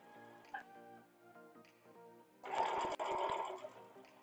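A sewing machine stitches fabric, starting with soft ticking and light mechanical clicks, then a louder, close, steady whirring run of stitching for the final couple of seconds.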